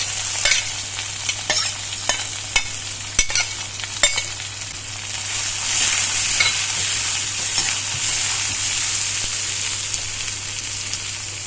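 Sliced onions fry in ghee with mustard seeds, dried red chilli and curry leaves, a steady close sizzle broken by sharp scraping stirs of the spoon in the first few seconds, then a fuller continuous frying hiss.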